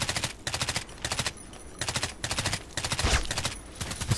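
A silenced RPK Custom machine gun firing in the online shooter Contract Wars, heard as several short, rapid bursts of suppressed shots, close and crisp, separated by brief gaps, with no voices.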